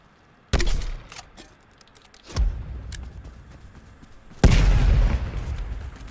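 Spawn tube fired in the video game Black Ops Cold War on the Satellite map: three loud, booming launch blasts with sharp onsets, spaced a couple of seconds apart, each trailing off into a rumbling tail.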